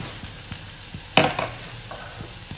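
Curry leaf powder stirred into a pan of sautéing idli mixture: a soft background sizzle broken by one sharp scraping stir and a few lighter clinks.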